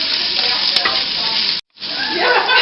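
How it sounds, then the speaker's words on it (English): Finely chopped garlic sautéing in a pan gives a steady, loud, close sizzle with stirring scrapes. The sizzle drops out briefly partway through, then resumes. "I'm putting in 6 cloves of really finely chopped garlic. Really fine. So saute this"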